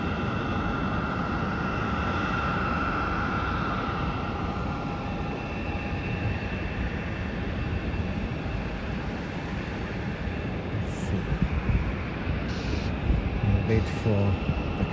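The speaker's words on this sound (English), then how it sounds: "Wait for the Cathay Pacific flight to take off" A steady, distant roar from an airplane at Melbourne Airport fills the whole stretch as a broad continuous rumble, with a few faint knocks near the end.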